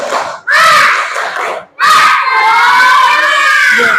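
A classroom of young children in a loud, rhythmic clapping cheer, shouting together in two bursts with a brief pause between, their voices dominating close by.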